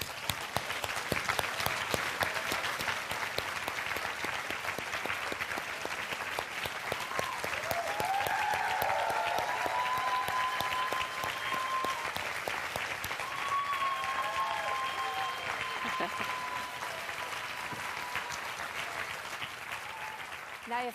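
A large audience at a yoga intensive applauds steadily and loudly for about twenty seconds as the teacher leaves the room, with faint voices and brief whistles rising through the dense clapping.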